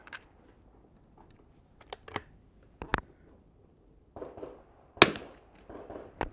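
A Winchester 52C rifle fires at a 100-yard target outdoors, several sharp isolated cracks spaced irregularly, one notably loud, with quiet gaps between.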